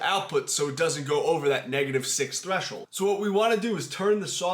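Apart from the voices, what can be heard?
No everyday noise stands out behind the speech.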